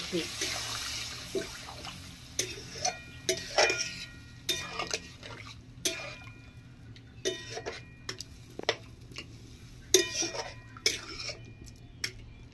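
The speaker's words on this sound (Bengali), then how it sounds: "একটু জল দিয়ে দিলাম আর ঢাকা দিয়ে দিলাম।" Water is poured into a pot of cooking potol (pointed gourd) and a lid is set on, giving scattered clinks and knocks of metal cookware against a steady kitchen hum, with a voice talking at times.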